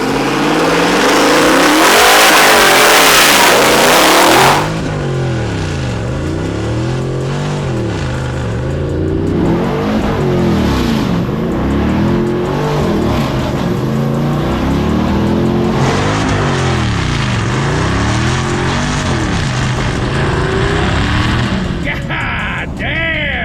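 Ford EcoBoost work truck with an aftermarket turbo kit revving hard and pulling through four gears, a loud burst up front then rising and falling engine sweeps with each shift, up close and steady.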